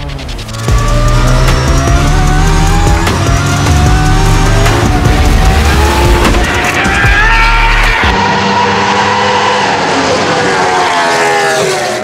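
A JAT GV4 naturally aspirated ten-cylinder engine screams in an A90 Supra race car at WTAC 2023 time attack. It is loud and close, with a sustained high-rev wail that climbs in pitch and shifts sharply about two-thirds of the way through.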